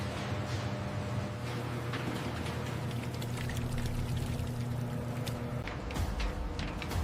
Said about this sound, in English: A cascade of fiery red marinade crashes down, affectionately enveloping every fiber of the meat.